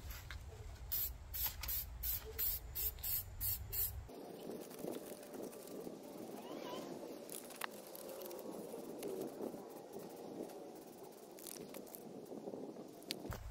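Black Plasti Dip aerosol paint sprays onto a headlight lens from a 2001 BMW E46 M3 in short hissing bursts, then a longer continuous spray, close and faint, with no talking.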